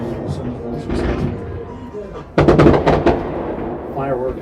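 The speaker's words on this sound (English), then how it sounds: "Fireworks going off as we have the coin toss" Fireworks pop and crackle in a quick burst of sharp bangs at an outdoor high school football game during the coin toss, heard amid crowd noise and stadium ambience.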